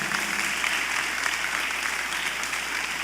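A congregation at a church service breaks into even, sustained clapping, heard at a moderate distance and fairly soft throughout.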